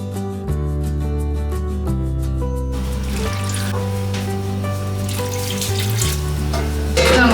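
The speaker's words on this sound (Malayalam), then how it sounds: "ഇതിലേക്ക് വേകാൻ ആവശ്യത്തിന് നമുക്ക് വെള്ളവും കൂടി ഒഴിച്ചു കൊടുക്കാം." Water is poured into a pan of spiced Kerala curry with turmeric, chilli and coriander powder, for a drumstick, mango and jackfruit-seed dish. A steady splashing, sizzling pour runs under continuous background music.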